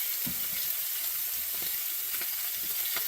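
Mushrooms, onions and okra sizzle steadily in a cast iron pan being browned, a constant close hiss with a few soft stirring knocks and no talk.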